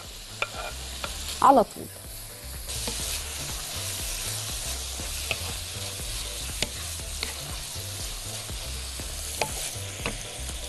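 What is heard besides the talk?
onion and meat frying and being stirred in a pan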